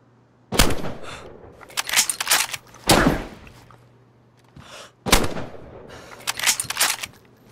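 Loud gunshots in the DayZ survival game come in separate bursts, single cracks and quick clusters from a nearby shooter, with short quiet gaps between volleys.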